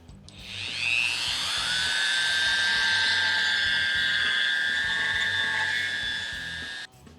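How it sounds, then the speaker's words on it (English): Small rotary tool carving out the inside of a plastic action figure leg, a high whining grind that ramps up, holds steady for several seconds close by, then cuts off abruptly. "I'm just going to carve out the inside of the leg."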